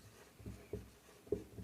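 Pen or pencil strokes on paper as a maths problem about a frustum's surface area is worked out by hand, a few soft, brief scratchy marks spaced irregularly in a quiet room.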